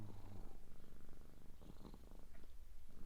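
A domestic cat purrs close to the microphone, a soft, steady rumbling rhythm that continues without pause.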